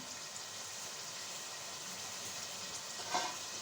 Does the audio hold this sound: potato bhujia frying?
yes